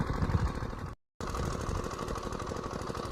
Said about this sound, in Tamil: இன்ஜின் ஓடிக்கிட்டு இருக்கு